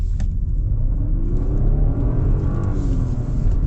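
Turbocharged V6 of a 2026 Genesis G80 Black in enhanced sound mode, a steady loud rumbling drone with a mechanical whir while driving, continuous and close, no talk.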